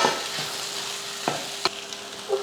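Ivy gourd and potato pieces with masala powder stir-fried in a pan, a soft steady sizzle broken by a few sharp scrapes and clinks of a spatula, fairly quiet and close with no talking.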